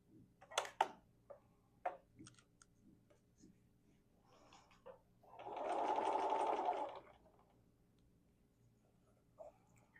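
Domestic sewing machine stitching fabric for an improv curves quilt block, a single steady whirring run of about a second and a half, close and moderately loud, after scattered handling clicks.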